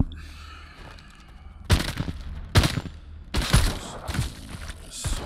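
Bursts of gunfire from the zombie shooter game Arizona Sunshine, several loud rapid volleys separated by short pauses, with crashing impacts mixed in.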